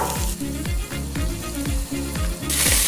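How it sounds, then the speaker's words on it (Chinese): Lamb skewers sizzling and spitting fat on a barbecue grill, a steady crackling hiss with repeated low rhythmic knocks under it, fairly close, with no speech. "这羊肉串开始滋滋冒油了"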